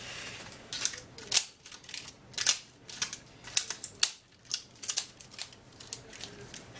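Scissors snip through a floppy disk in a run of sharp, crisp cuts, about a dozen irregular clicks and crunches over several seconds, close up and fairly quiet.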